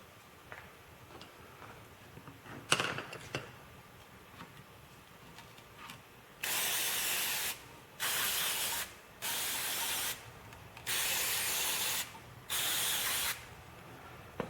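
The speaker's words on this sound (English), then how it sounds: "I have carburetor cleaner. My guess is that would probably do it." Carburetor cleaner sprays from an aerosol can while a Weedeater Featherlite Plus trimmer's fuel tank is cleaned: five loud hissing bursts of about a second each, after a quieter stretch with a few small clicks.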